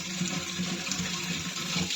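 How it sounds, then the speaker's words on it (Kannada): Water poured into a spicy fish fry masala mix while cooking, a steady close pouring and splashing sound that runs the full two seconds with no talk. "ಇಂಕ ನೀರು ಪಾಡ್ದು"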